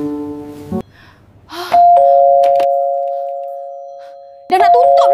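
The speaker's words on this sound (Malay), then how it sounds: "Jika ada orang berdiri depan pintu, di kaunter akan bunyi isyarat, jadi saya tahu ada customer." A door chime at a shop counter rings a loud, sustained two-tone note that slowly fades over about three seconds, then sounds again near the end; a voice talks just before it.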